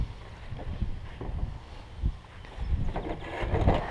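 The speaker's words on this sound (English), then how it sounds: "It's a little windy out here." Steady outdoor wind buffets the microphone at a flying field before a model jet's maiden flight, with low rumbling gusts that swell and fade throughout.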